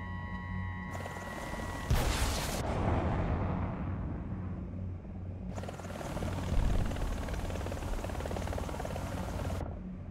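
A helicopter in the video game War Thunder: rotor drone rumbles steadily with a broad whooshing roar that swells and fades, loud and fairly close, with no talking.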